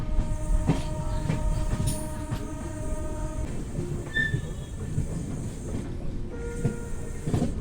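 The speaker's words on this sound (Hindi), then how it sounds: "ट्रेन डिपार्चर कर रही है मायावती से" An Amrit Bharat Express train pulls out of a station with steady rumbling and rolling wheel noise, faint squeals and a brief horn-like tone, close and continuous throughout.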